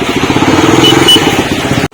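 A Benelli Imperiale 400 motorcycle engine runs close by, loud and steady, with a regular thumping pulse before it cuts off abruptly near the end.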